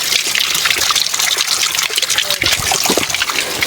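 Steady stream of water running from an overhead spout outdoors, a continuous rushing trickle that fills the whole clip with a voice briefly heard beneath it.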